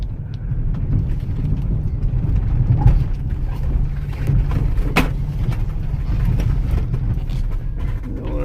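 A $20 rally car runs on a rough lap, its engine a steady low rumble close by with occasional knocks and a sharp bang near the middle, no voices.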